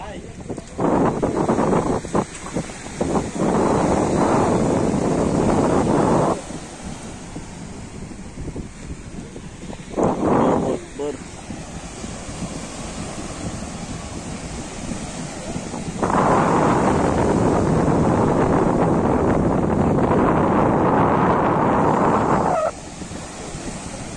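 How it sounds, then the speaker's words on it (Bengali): Strong wind at Patenga sea beach in Chattogram buffets the microphone in long, loud roaring gusts separated by calmer stretches, with surf washing faintly underneath. "বাতাসের শব্দটা আপনারা শুনবেন।"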